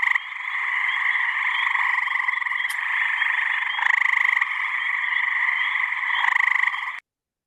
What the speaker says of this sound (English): So that's the gray tree frog